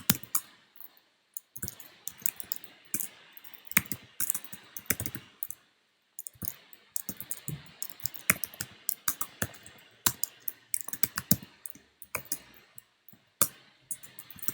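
Irregular bursts of typing on a computer keyboard, crisp close-up key clicks with short pauses between runs, no talking.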